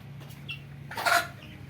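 Tiger chickens on a poultry farm give a single short, fairly close cluck amid quiet surroundings.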